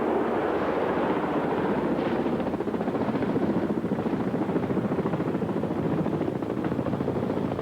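A military helicopter flies close and loud during a troop extraction, a steady churning rotor and engine roar with wind buffeting, unbroken and without voices.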